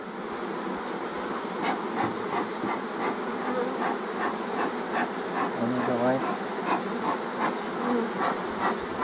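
A swarm of honey bees buzzes steadily near an apiary, a dense, continuous drone with faint individual insects passing close, while low voices talk in the background.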